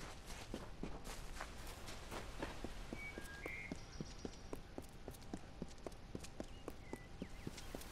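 Horse hooves clip-clop in a steady, even rhythm throughout in Kingdoms of Amalur: Re-Reckoning, moderately close over a quiet background, with a few faint chimes from the game.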